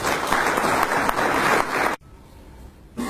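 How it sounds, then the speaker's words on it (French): An audience at a literary café gives a loud burst of applause for an author, clapping densely for about two seconds before it cuts off abruptly. "je voudrais vraiment vous inviter à applaudir pour lui"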